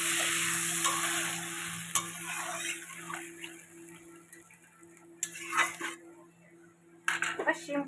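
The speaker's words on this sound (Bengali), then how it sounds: "দেখো ঝোল দিয়ে দিচ্ছি।" Fish curry with flat beans in a pan, seasoned with green chilli, cumin and coriander pastes, turmeric and salt, as gravy is added, a soft ongoing sizzle punctuated by a few clinks and scraping stirs of a utensil.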